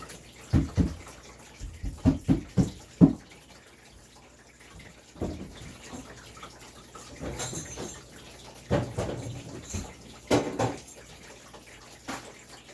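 Water pours and splashes into a container in a few short bursts, with quieter trickling pauses between, fairly close and soft.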